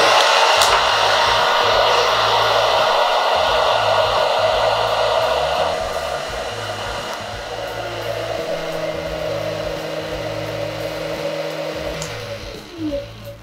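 A Tool Science hair dryer blows with a loud, steady motor-and-air roar at maximum power, then drops to a quieter, lower-pitched whir on the low setting, close by and without talk.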